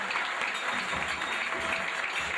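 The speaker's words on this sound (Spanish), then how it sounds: "vamos a brindarles un fuerte aplauso a los gaiteros y amigos de Ciro" An audience at a live show applauds the bagpipers, giving a steady wash of clapping at moderate distance for a couple of seconds without any voice on top.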